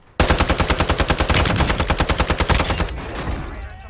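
Rapid automatic gunfire in Call of Duty Warzone on Ashika Island, one close, loud burst of evenly spaced shots lasting about two and a half seconds, then a fading tail of echo.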